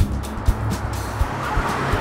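A car turns around with its tires squealing and skidding, the engine noise steady and close, with short bursts of tire squeal over the motor.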